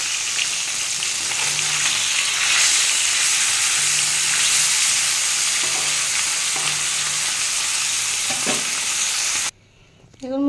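Pieces of large tilapia fish fry in hot oil with a loud, continuous sizzle and occasional stirring scrapes, before the sound cuts off abruptly near the end.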